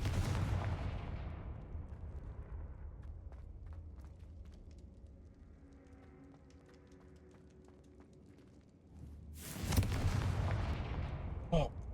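Video game Hogwarts Legacy, with Confringo blasting-spell explosions: a heavy rumbling blast that fades into a low, crackling tail, then a second loud boom near the end, plus fainter pops in between.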